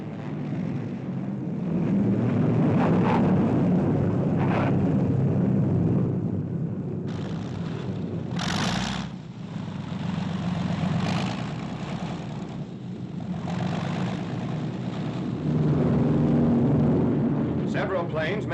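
British warplanes drone overhead returning from a strike in a 1945 wartime newsreel, a continuous rough engine roar that swells and fades, heard under a narrator's voice.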